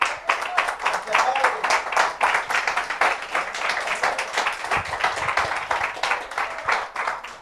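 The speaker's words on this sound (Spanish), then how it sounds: "¿Cuántos dan fuerte aplauso al Señor por eso?" A church congregation applauds loudly and steadily in a large room at a Spanish-language worship service, the clapping sustained for several seconds with some voices mixed in.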